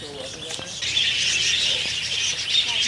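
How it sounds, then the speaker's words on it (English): Many small birds chirping inside a zoo bird sanctuary at Zoo World Panama City Beach, a dense, bright twittering chorus that swells after the first second and holds steadily. "Now we are going into the bird sanctuary to feed the birds."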